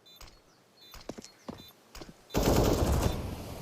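Rifle fire from M4 and AK weapons in a video game comes as a few sharp scattered shots, then a dense burst of continuous gunfire swells loudly in the final second.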